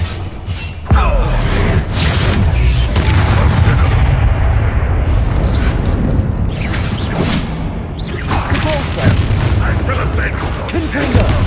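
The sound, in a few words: explosion from the Confringo spell in the video game Hogwarts Legacy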